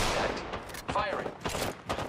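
Gunfire in the Apex Legends video game comes as several short, sharp bursts of shots spread across roughly two seconds, loud and close, with game voice callouts mixed in.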